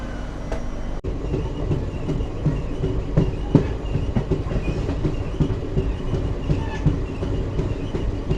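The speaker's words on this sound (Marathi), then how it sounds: "सो ही आपली अशी एक्सप्रेस गाडी आहे ए सी लोकल" An AC express train, the Koyna Express from Mumbai to Kolhapur, rumbles along steadily, its wheels clattering rhythmically over the rails with occasional clicks and knocks.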